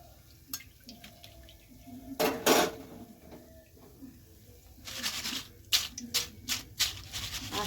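Crispy fried rice-flour nimki are lifted from oil and shaken, giving light crunchy rattles and clinks against a metal utensil, sparse at first, then a rapid cluster of bright crackly taps.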